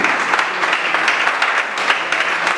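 Dense, loud applause from an assembled crowd honouring a deputy receiving an honorary distinction, a continuous close wash of clapping with no voices.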